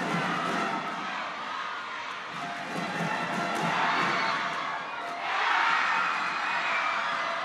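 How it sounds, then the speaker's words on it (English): Indonesian crowd roaring at a men's doubles badminton match in the Axiata Cup: a sustained wash of cheering and shouting from a large arena audience, swelling louder in surges, broad and distant, with no talk over it. "Cheer from the Indonesian crowd."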